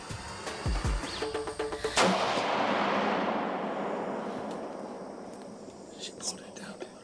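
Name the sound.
rifle gunshot during youth deer hunt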